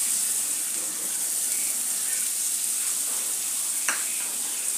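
Chopped onion sautéing in hot oil with cumin and asafoetida for a Sunday breakfast dish, a steady close sizzle with a brief sharper crackle near the end.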